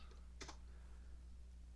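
Brief burst of a few quick keystrokes on a computer keyboard, very faint and close, with a steady low electrical hum underneath.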